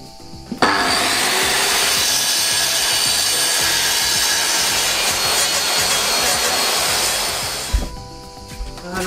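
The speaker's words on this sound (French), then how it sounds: "Scie circulaire. Premier essai." A circular saw roars steadily through wood for several seconds, loud and close, starting abruptly and winding down at the end, during a van conversion.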